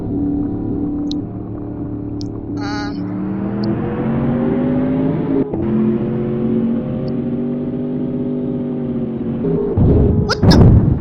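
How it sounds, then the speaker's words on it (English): Bugatti engine in the DriveX driving game revving loud and steady, its pitch sliding up and down with a sharp clunk midway and a brief burst near the end. "Oh my god, why so loud? Driving my Bugatti"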